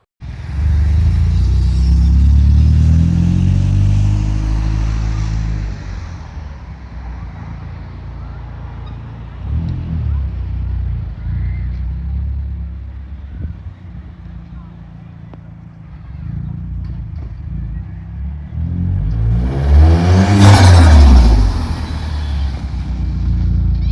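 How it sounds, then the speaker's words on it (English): A Vauxhall Zafira GSI drives off up the road, its engine rumbling loudly up close at first, then fading and dropping to a quieter idle before swelling again as it passes near, with someone talking at times. "what I'm going to do now is just drive it up the road, make sure it's working, spin it round and do the other side."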